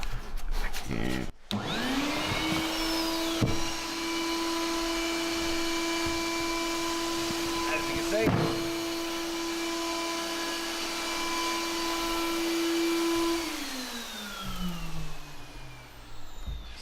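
A shop vacuum hooked to a sandblasting cabinet spins up, then drones loud and steady with a whining tone before spinning down near the end, with a few knocks and a brief voice over it.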